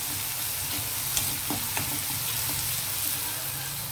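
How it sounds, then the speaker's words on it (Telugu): Ginger garlic paste sizzles steadily in hot oil while a spoon stirs it with a few light scraping clicks, close and continuous, for a drumstick and cashew curry. "ఇది పచ్చివాసన పోయేలాగా కొంచెం ఇలాగ ఇందులో ఫ్రై అవనిచ్చి మిగతా వేద్దామండి"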